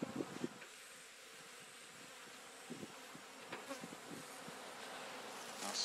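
A honeybee swarm fans steadily, giving a continuous soft buzzing hum of many bees close by, with a few louder passes of individual bees.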